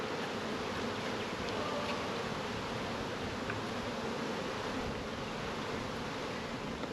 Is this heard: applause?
no